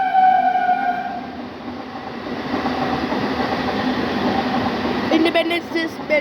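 An Independence Day special series 2.5 train skips Khardaha station without stopping, a loud continuous rumble of rail cars with a rising clatter and hum, carrying steadily throughout, with people's voices faintly underneath.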